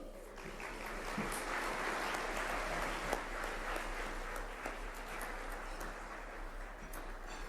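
Steady, sustained applause from a luncheon crowd at a bar association annual meeting, a dense wash of many hands clapping at moderate distance, continuing evenly throughout.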